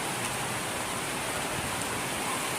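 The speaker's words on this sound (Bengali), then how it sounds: "বৃষ্টি নেমে গেছে, বৃষ্টি পড়তেছে।" Rain falling, heard as a steady, even hiss of drops without break, fairly faint and continuous from start to finish.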